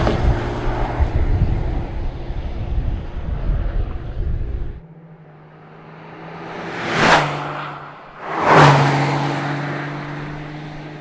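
A Porsche 911 GT3 RS roars loudly at first, then drops to a quieter idle hum, followed by two swelling passes that build and recede in quick succession, with wind buffeting the microphone.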